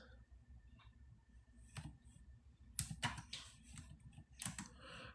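Typing on a computer keyboard produces a few scattered, quiet key clicks and short bursts of taps in close range, with sparse irregular rhythm and no talking.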